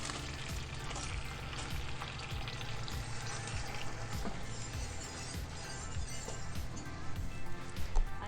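Shredded cheese and melted butter sizzle and crackle softly in a pan, a steady low frying hiss with small pops and occasional faint clinks, heard without talk while making a beer cheese dipping sauce.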